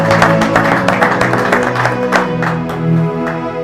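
Church congregation applauding rhythmically in worship, a dense run of claps over music with a sustained tone, loud and continuous throughout.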